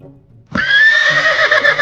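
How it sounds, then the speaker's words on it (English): A horse neighs loudly and close, a sustained whinny rising abruptly after a quiet start and holding to the end of the clip, with no one talking. "The horse helps us carry things."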